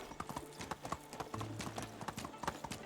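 Horse hooves clip-clop at a steady trotting rhythm in the video game Medieval Dynasty, a continuous run of close, even footfalls with a low background tone and a faint voice briefly in the mix.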